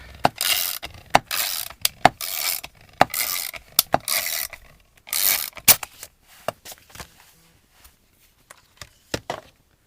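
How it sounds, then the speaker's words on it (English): A Wizard die-cutting machine feeding a magnetic mat with card on top gives a run of loud ratcheting, grinding mechanical bursts in an uneven rhythm, then sparser clicks as it winds down, close and alone. "put my magnetic mat inside and cutting that on top and run it through the wizard"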